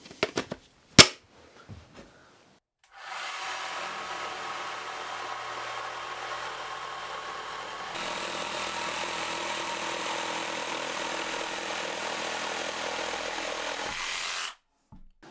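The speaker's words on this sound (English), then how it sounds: "I'm just going to use the jigsaw." Electric jigsaw roughly cutting wood pieces to size, a few knocks and clicks first, then a continuous buzzing cut lasting around eleven seconds that steps up slightly in loudness midway before stopping abruptly.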